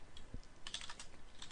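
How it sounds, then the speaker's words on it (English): Quick keystrokes on a computer keyboard, typed at a desk while running Git commands: a short, close burst of light clicks with no talking. "we can type this."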